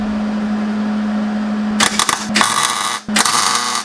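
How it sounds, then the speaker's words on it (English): A welder tack-welds a socket onto a stuck bolt on a VW Rabbit intake, a steady hum giving way to two short, loud crackling bursts of arc welding up close. "put a light tack weld on there"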